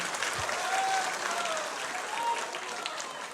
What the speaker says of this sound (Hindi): उनका भी हम जोरदार तालियों से यहाँ पर स्वागत करेंगे